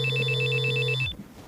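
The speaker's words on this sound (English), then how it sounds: "Just then, his phone rings." A telephone rings close by with a bright, warbling electronic trill. A tone sounds underneath it for about a second, then the ring cuts off abruptly into quiet.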